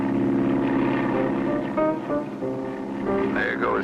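Propeller airplane droning steadily in a 1959 Alaskan bush-pilot cartoon, a continuous engine hum under a music-like soundtrack with a rising tone near the end.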